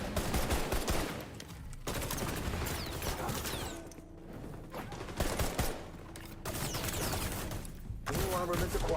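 Rapid bursts of gunfire in the XDefiant shooter game, repeated volleys and automatic fire cutting in and out over a busy, loud game mix with brief gaps.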